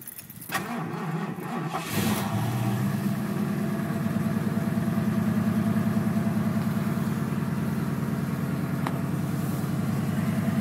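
A 1972 Ford Mustang Fastback cranks over on a chilly morning, catches after about two seconds and settles into a steady, loud, rumbling cold idle that runs evenly to the end with no talk.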